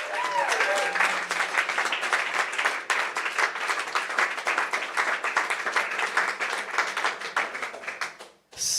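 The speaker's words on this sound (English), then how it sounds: "So another round of applause." Audience applause at a Bitcoin hackathon awards session, a dense steady roar of many hands clapping that fills the clip at full strength, with a brief voice at the start, then cuts off sharply just before the end.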